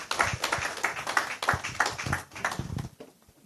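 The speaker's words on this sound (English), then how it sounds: "That applause is not sufficient." Applause from a business innovation series audience: a steady crowd of hand claps fills about three seconds, then tapers off abruptly.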